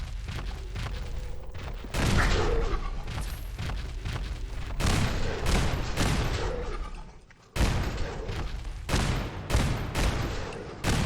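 Loud, dense gunfire from the video game Fallout 4, with bursts of automatic fire and booming shots pounding almost continuously, broken by a brief lull before resuming at full force.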